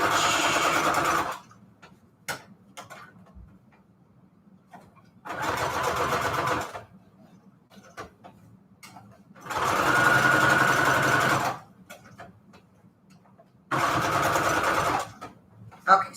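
Sewing machine running a straight stitch through fabric onto manila tags, four separate bursts of whirring stitching a few seconds each, with quiet pauses and small clicks between runs.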